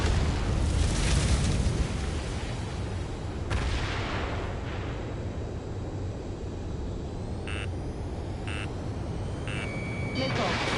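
A fighter jet fires a missile in the combat flight game Ace Combat 7, a loud rushing roar and blast over constant engine noise, followed by cockpit warning beeps and radio chatter.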